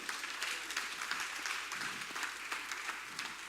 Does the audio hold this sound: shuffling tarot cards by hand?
no